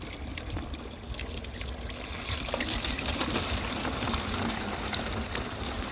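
Spring water pours steadily into a jug at a refill spring, a continuous close trickling gush that grows slightly fuller partway through, with no talking.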